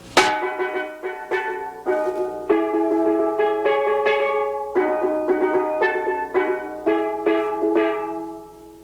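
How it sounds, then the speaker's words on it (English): Double second steel pans, the third pan in a 1977 New York steel band lineup, play chords in rhythmic, evenly spaced struck strokes that ring brightly and decay, close and alone without talk. "Next in line we have the double seconds."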